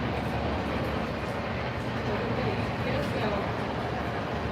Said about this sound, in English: that was a 5-engine train, and every last one of those fucking diesel electrics was screaming.